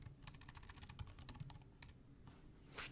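Rapid clicking of keys on a computer keyboard, quiet and close, with a quick burst of keystrokes followed by a pause and a few scattered taps.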